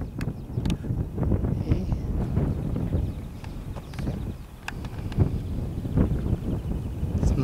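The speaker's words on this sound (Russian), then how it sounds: "Ветерочек большой." Strong wind gusts across an open field of green winter wheat in spring, a loud, uneven buffeting rush with knocks and rustles near the microphone, and a voice briefly speaks.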